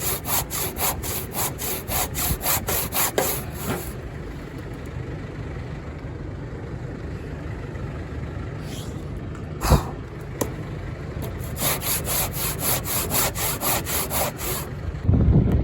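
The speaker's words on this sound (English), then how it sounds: "I managed to find a saw. That's my granddad's old one." An old hand saw cuts through wood after storm damage, giving a steady, loud, continuous rasping stroke rhythm that is fast at first and then settles into a long grinding cut with a few sharp clicks, close up.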